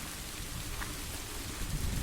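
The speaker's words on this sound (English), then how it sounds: "Phantom rain, perhaps, falling from the cursed darkness itself." Steady rain falls for an eerie audio drama, a continuous broadband hiss of drops with low rumbling beneath, dense and unbroken throughout with no voices.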